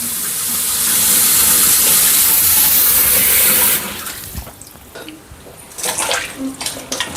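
Onions, some spoiled and peeling apart, washed by hand in water: a steady rush of running water, then uneven close splashes and sloshing as hands swirl through the bowl.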